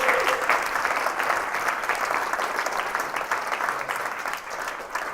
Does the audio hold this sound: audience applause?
yes